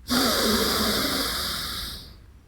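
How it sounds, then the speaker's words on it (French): Yoga pranayama breathing through one nostril during a beginner class, a single long, close, airy breath that holds steady for about two seconds before fading out, heard alone. "Ferme la narine gauche, ouvre la narine droite et expire de la narine droite. Inspire de la narine droite."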